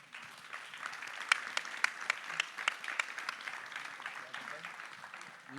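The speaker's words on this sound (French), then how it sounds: "Applaudissements, s'il vous plaît." Faint, thin applause from a modest conference audience at a hydroelectricity meeting in France, a handful of sharper individual claps standing out at first before the clapping settles into a soft, steady patter.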